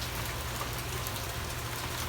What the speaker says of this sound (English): It just refuses to stop raining.